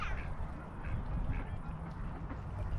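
Waterfowl such as ducks or geese calling out in Swedish countryside, faint and distant quacks and honks over a steady outdoor ambience.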